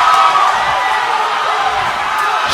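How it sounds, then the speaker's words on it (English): A packed gym crowd at a women's college basketball game roars in a loud, sustained wall of cheering and shouting during the tense final seconds of a close game. "This crowd is deafening."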